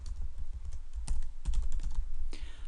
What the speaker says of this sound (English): I'm just going to type in a few names